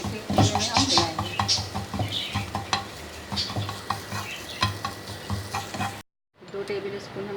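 An egg fries in a pan for chapli kebab mince, with a steady sizzle and frequent stirring scrapes of a utensil against the pan, close and fairly quiet.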